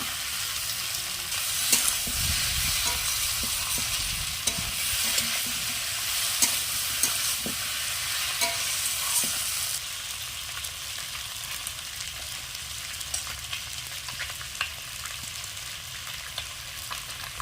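Fried potatoes tossed into spice masala in a pan give a continuous sizzle with frequent clicks and scrapes of the spatula stirring, close and steady, with no voices.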